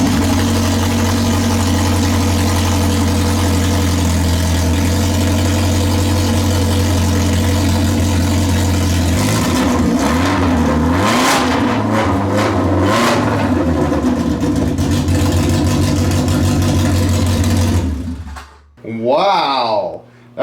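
A Polaris RZR Pro R four-cylinder engine running with no exhaust fitted idles loudly and steadily, then is revved hard in several sharp bursts before cutting off, with a short voice at the very end.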